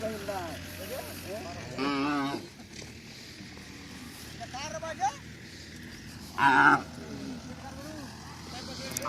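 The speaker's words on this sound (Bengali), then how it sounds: "হাজার হাজার গরু দিয়ে এই জায়গাটা ভর্তি" Cattle moo at a crowded cattle market on a Padma river char near the India–Bangladesh border. A couple of loud, drawn-out lows rise over the murmur of people talking and general outdoor bustle.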